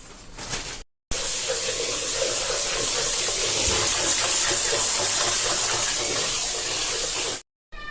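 Steady running water pours and splashes over leafy greens (amaranth) being washed, close and fairly loud, with brief quiet gaps at the start and end.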